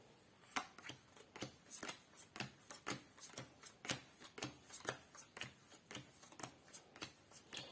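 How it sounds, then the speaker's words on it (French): 7 Wonders game cards dealt out on a table one by one, a series of soft, quick card snaps and slides in an irregular rhythm, quiet and close, with no talking. "on passe à la distribution du deuxième tas de cartes"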